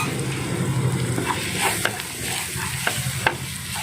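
Egg pepper masala with a spoonful of ghee being stirred in a pan: a steady sizzle and frying crackle with repeated scraping of the spoon against the pan, close up, with no talking.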